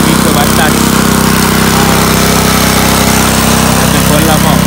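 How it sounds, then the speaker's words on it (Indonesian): An engine-driven water pump runs steadily in a garden, drawing water from a river, its constant droning hum loud and close with no breaks. "mesin dah ada kat kebun sekarang ni. Tengah pump air daripada sungai."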